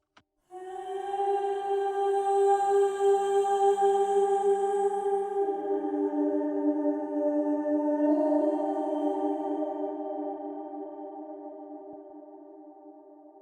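A sustained synth pad chord rings out with a long, washy reverb from the ab Doverb plugin, its tones shifting slightly before slowly decaying and fading away into silence.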